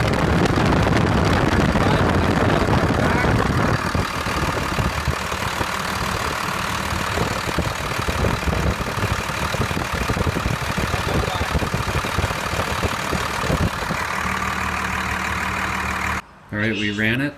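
A motor idles steadily and loudly throughout, a constant rumbling drone that cuts out briefly near the end.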